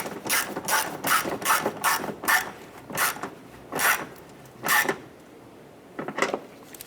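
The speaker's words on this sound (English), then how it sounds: "Let's go ahead and tighten down our lower nuts here onto the fender well." Ratcheting wrench clicks in quick bursts as lower nuts are snugged onto the fender well of a 1993-1997 Ford Ranger during a coolant and washer tank swap, close and alone with short pauses between strokes.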